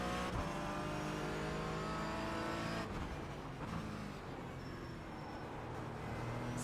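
GT4 race car engines roar in the iRacing sim at the Montreal circuit, a continuous, loud drone of several cars packed together, with the pitch shifting as they brake and accelerate.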